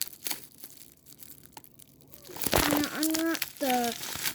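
Bubble wrap crinkles and tears as a toy package is unwrapped, a sharp crackling rustle that grows louder toward the end, with a voice briefly audible.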